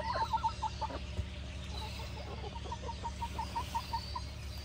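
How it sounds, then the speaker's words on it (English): Backyard hens cluck close by in a soft, rapid string of repeated calls over a low steady hum. "Pretty chickens."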